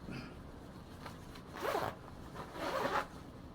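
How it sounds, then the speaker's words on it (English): A zipper is pulled closed on a changing bag holding a Fujichrome Single-8 film cartridge, heard as two close, scratchy zipping strokes over a steady rustling background with no talk. "and then you zip everything up."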